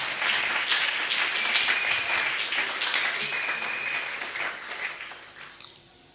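A church congregation applauds in praise during a wedding blessing, a dense wash of clapping that fills the clip and slowly thins out toward the end.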